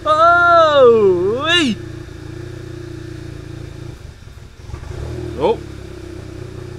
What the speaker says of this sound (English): But we should have a cold start for the boys.